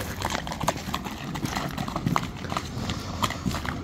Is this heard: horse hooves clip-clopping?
yes